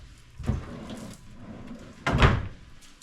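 Drawers in a retro-styled room at Universal's Cabana Bay Resort hotel, opened and shut: two wooden thuds and slides, the second louder and closer, with quiet room tone between and no talk.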